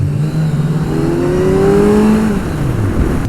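A Kawasaki Z900 motorcycle engine revs in a steady run, its pitch rising and then falling back, loud and close, with no voices.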